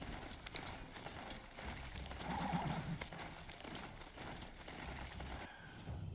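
Steady clip-clop of horse hooves in the video game Horizon Zero Dawn over a low ambient bed, with a brief whinny-like tone partway through; moderately loud, no talking.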